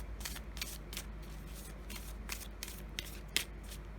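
Oracle cards being shuffled by hand, a quiet series of soft papery riffles and slaps in an otherwise calm room with a low steady hum.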